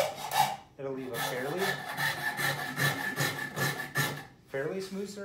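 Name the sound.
wood rasp filing wood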